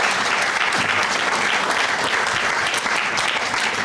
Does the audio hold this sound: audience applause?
yes